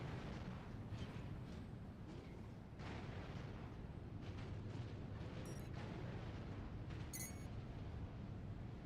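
Missile explosions in the mech combat game Armored Core VI, a dense, continuous roar of blasts and rumbling booms with a few sharp metallic bursts near the end, loud and sustained without pause.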